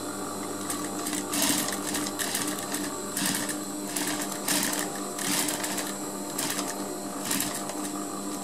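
A sewing machine stitches a zipper fly in a tailoring class, running in short, rhythmic bursts of rapid needle clatter separated by brief pauses. The sound is close and clear, with no talking.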